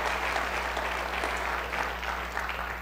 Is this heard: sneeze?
no